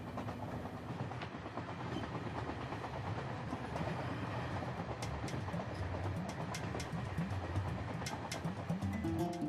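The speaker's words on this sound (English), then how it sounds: "I'm on a train heading south to the land of Nubia" A train rolls south toward Nubia, a steady rumble with rhythmic clicks from the wheels on the rails, heard continuously and fairly close as if from onboard.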